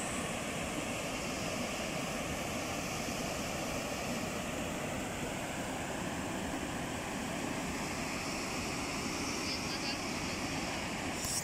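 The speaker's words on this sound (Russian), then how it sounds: "Вот он, водопад Кивач." Kivach waterfall in Karelia gives a continuous broadband roar of falling water, steady and loud throughout with no breaks, heard from close by.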